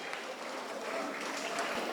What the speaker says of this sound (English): Put your hands together. Make louder noise for them.